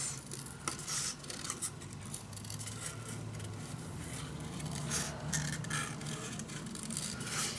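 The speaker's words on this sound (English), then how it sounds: "I'm just gonna fussy cut quick those little pieces." Scissors snip through small paper pieces during close, fussy cutting for a craft cover, giving a steady run of quick, crisp cuts and rustles up close over a low background hum.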